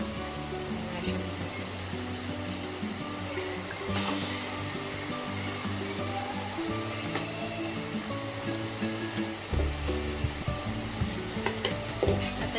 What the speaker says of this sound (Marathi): हे चांगलं आपल्याला लाल होईपर्यंत तळून घ्यायचं आहे